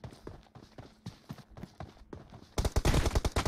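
Gunfire in a team deathmatch video game comes in short, quiet bursts of rapid shots, then swells into a louder, denser volley near the end, with no voices over it.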